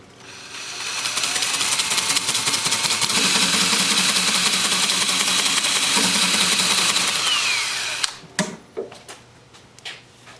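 A continuous, loud hissing whir comes from a Sandoflex sander working over rough wood bark on a live-edge trivet. It holds steady for about eight seconds before stopping, followed by scattered taps and knocks.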